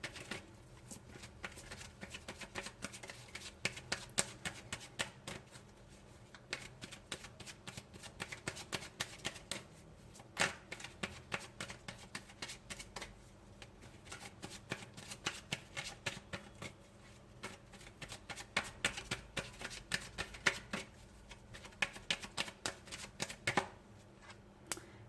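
Romance Angels oracle cards by Doreen Virtue being shuffled close up, a steady run of quick papery riffles and soft slaps that continues for the whole stretch with no talking.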